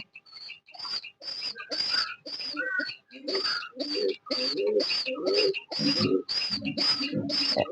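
A Lakha pigeon chick being fed by its parents, with a run of rapid, evenly spaced squeaky begging calls and soft cooing close by, continuing steadily with brief pauses.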